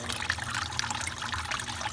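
Melted beeswax poured through a small simple kitchen strainer during low-tech wax processing on a commercial beekeeping farm, giving a soft continuous trickle and dribble heard alone at low level.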